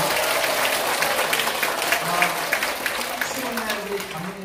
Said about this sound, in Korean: 다시 한번 뜨거운 박수 한번 좀 부탁드립니다